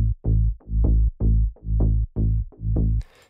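Layered synthesized bass for stutter house, pairing a plucky bass with a sustained Reese drone bass, repeats in a steady pulse of about seven punchy notes, loud and alone, ending with a short noisy burst.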